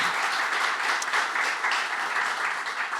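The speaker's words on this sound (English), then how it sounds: "Supervisor Hopkins, I think you deserve a round of applause for pulling this group together" Audience applause at a sea otter summit forum, a steady dense wash of clapping from a crowd, continuous and fairly loud throughout.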